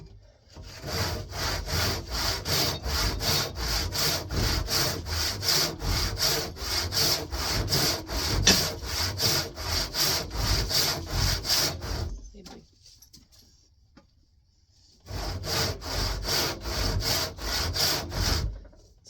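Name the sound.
hand sawing ash wood into a 2x4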